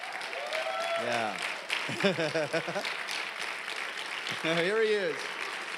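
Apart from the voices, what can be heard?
applause for a speaker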